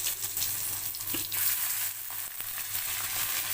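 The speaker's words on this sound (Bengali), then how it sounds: "এরম করে মাছগুলো আমি সব তেলে ভেজে নেবো এক এক করে" Tangra fish frying in mustard oil in a wok, a constant soft sizzling hiss heard alone at moderate distance with a few light crackles.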